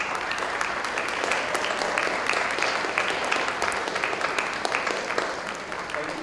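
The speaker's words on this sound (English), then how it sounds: "Please give them a big round of applause." An audience applauds steadily with dense, sustained clapping that holds at a constant level throughout.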